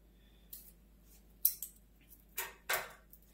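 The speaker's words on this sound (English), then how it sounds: "So let me cut that off." Scissors snip sheer ribbon for a winter window wreath bow, making four or five quiet, crisp cuts spaced irregularly in a still room.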